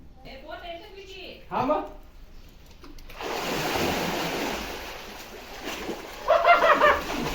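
Water splashing inside a village well as a person climbs down into it, a burst of splashing and sloshing with echo following brief talking at the start, then louder splashes near the end.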